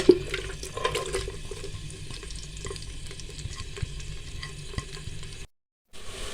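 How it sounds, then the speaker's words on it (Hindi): Two medium-sized chopped onions go into hot oil in a pan for dhaba-style aloo qeema, giving a steady close sizzle and hiss with a few stirring scrapes throughout, briefly cut off near the end. "अब इसमें प्याज शामिल कर देंगे।"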